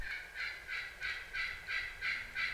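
Wild turkey gobblers gobbling repeatedly out in an open field, about seven rapid rattling calls in a steady rhythm, moderately distant and without talk.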